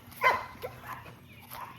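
A dog gives one loud bark followed by a couple of softer yips and whimpers, close by against a quiet background.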